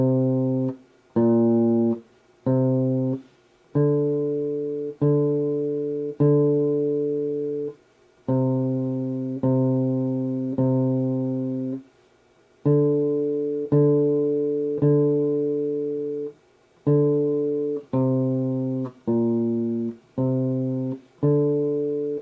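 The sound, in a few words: bass guitar playing Mary Had a Little Lamb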